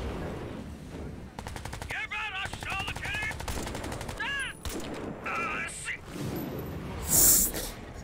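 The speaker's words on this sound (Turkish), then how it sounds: "Kendi adamıma sıktım lan." Gunfire in the video game Crysis 3: rapid automatic bursts rattling close and loud, mixed with game sound effects, while voices talk over the action.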